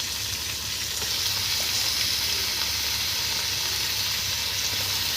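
Chicken sautéing with spices in a pan, a loud, continuous close-up sizzle and hiss with a low steady hum underneath and no talking.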